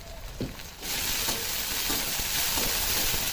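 Chopped onion frying in hot oil with garlic, cumin and ginger paste: a soft start, then a sudden loud, dense sizzle that holds steady with occasional stirring taps.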